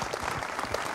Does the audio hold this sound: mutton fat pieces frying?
no